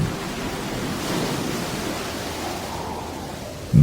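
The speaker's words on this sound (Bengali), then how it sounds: "তারপরই কানে এলো সমুদ্রের অস্বাভাবিক গর্জন" Roaring ocean surf as a sound effect in a suspense audio drama, a dense continuous wash of crashing waves and spray with heavy wind, steady and loud from start to finish, no voices.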